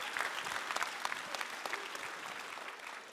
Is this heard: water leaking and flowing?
no